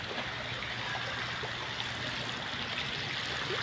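Water at a beach gives a steady, close hiss and rush, like flowing or lapping water, with no voices and no breaks.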